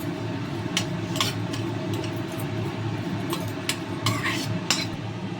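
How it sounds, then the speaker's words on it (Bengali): Whole fennel and cumin seeds dry-roast in a hot pan, stirred with a utensil that gives a constant gritty rustle and occasional sharp metallic scrapes and taps against the pan, steady and close. "গোটা জিরে এবার শুকনো খোলায় ভেজে নেবো"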